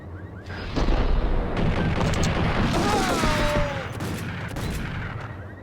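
Heavy assault rifle fire in the Max Payne video game, dense overlapping gunshots and booms running continuously through most of the stretch, loud and close with game effects layered underneath.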